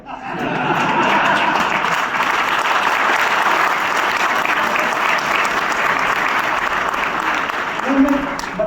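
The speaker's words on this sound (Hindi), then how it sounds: "जो 2-4 लोग ताली बजा रहे हैं" Clapping from the audience at a motivational talk, a steady, fairly dense patter of applause that holds for several seconds before thinning near the end.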